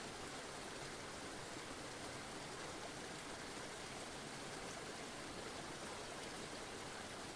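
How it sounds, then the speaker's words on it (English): Stream water on Mt. Shasta flows in a steady, even rush, a soft continuous wash of sound with no breaks and no voices. "as you listen to the water"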